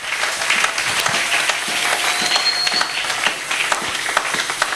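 Sustained applause from a church congregation, steady dense clapping that fills the room throughout.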